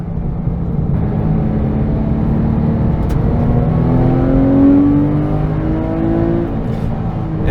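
A Porsche 911 997 GT3 RS accelerates hard on a Kansas drive, its engine a loud, close, sustained roar whose pitch climbs steadily through the gear, heard from inside with no talking.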